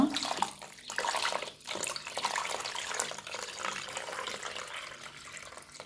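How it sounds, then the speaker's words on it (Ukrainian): Tomato water pours steadily into a pot of cabbage rolls, a close, splashy gushing stream that rises and dips in bursts without any talk. "І заливаю у наші голубці томатну водичку"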